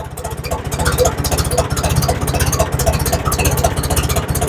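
An engine idles after a cold start with a newly fitted muffler, a close, steady, rhythmic low chugging with a slightly uneven pulse throughout.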